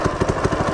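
A FRP GMB 100 retro mini bike engine idles close by, a steady low mechanical chug with a regular pulsing beat running throughout the short stretch.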